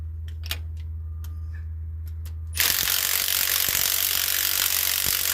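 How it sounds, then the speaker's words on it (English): Ratchet working loose a bolt on a 1979 Lincoln Continental Mark V, a few sparse clicks over a low engine-like hum, then a sudden loud, continuous rasping grind that holds steady to the end. "Let's see if I can get this bolt loose."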